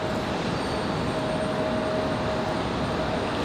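Boeing 777 airliner on a slow landing approach at Raleigh-Durham airport, heard as a steady, broad engine roar with a faint whine, continuous and fairly close for the whole stretch with no talk.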